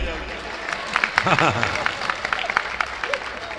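Crowd at a festival fair in Mauranipur claps after a speech, a loose, uneven patter of hands running under a voice that cuts in briefly near the middle.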